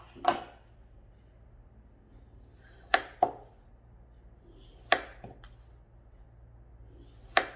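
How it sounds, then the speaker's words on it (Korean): Several sharp cutting strokes, spaced irregularly with pauses between them, as a blade slices the edges off a block of floral foam at close range. "바구니보다 플로랄폼이 조금 더 크기 때문에 가장자리를 잘라 바구니 안에 넣어줄게요"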